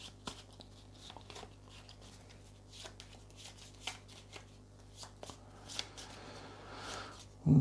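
Playing cards are shuffled at a table during a game, with repeated soft riffles and flicks, close and fairly quiet, alongside a steady low background hum.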